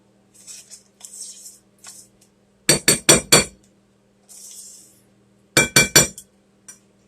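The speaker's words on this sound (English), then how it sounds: "Let me get a spoon or something to get this out with." A spoon clinks against a dish during home cooking of a mini Christmas dinner, two quick clusters of three or four bright metallic taps with faint scraping between.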